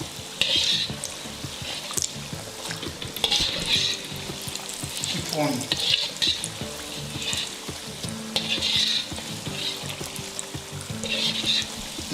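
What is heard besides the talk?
spring rolls and samosas frying in very hot cooking oil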